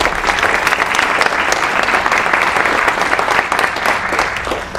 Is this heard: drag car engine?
no